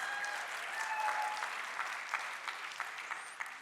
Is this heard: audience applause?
yes